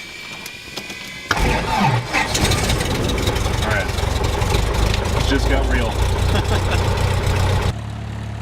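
A small training airplane's propeller engine catches abruptly after a quiet moment, then settles into a loud, steady idle that drones on before dropping off near the end, with someone speaking briefly over it.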